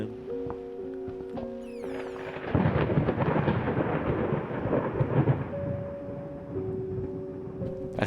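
A lightning strike brings a loud, deep rolling crack of thunder in the horror video game Layers of Fear, rumbling for several seconds over quieter ambient tones, with no talking.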